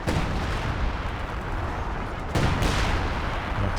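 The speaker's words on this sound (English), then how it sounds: "Okay, that's the Major's artillery." In a Company of Heroes 2 match, artillery fire rumbles in a continuous, heavy wash of blasts, with a sharper impact cracking through near the end.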